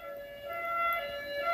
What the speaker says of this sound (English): Ambulance is going through.